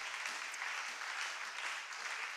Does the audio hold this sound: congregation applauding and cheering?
yes